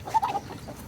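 Kuroiler chickens, large white roosters and hens, cluck on a farm in Morogoro, Tanzania, giving a few short, close clucks within a second against a quiet background.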